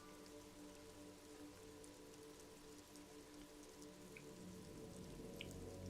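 Rain falls in the Disco Elysium game world, a faint, steady patter of drops under a low hum, growing slightly louder toward the end.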